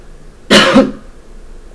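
A single loud, harsh cough, close up, bursting out after quiet and fading quickly.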